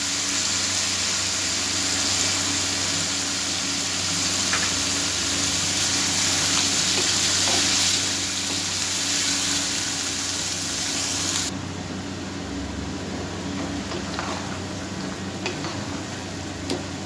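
Chopped tomatoes and a little water cook in a chicken karahi, giving a continuous bubbling sizzle with occasional stirring scrapes. The sound is close and steady and eases slightly partway through, with no talk.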